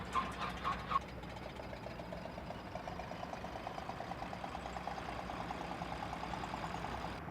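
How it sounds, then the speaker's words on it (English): Exterior engine noise from a Cessna 172M light aircraft in the X-Plane 12 flight simulator, a steady mid-pitched idle drone that continues without a break. A few brief clicks sound near the start. "Let's listen to the engine sounds from the exterior."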